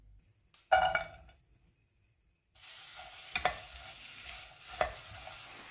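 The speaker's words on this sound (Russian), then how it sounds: "обжариваю на сухой сковороде до мягкости" Soft sizzling of zucchini frying in a dry pan with a few sharp clatters of stirring, following a brief clank and a short silence.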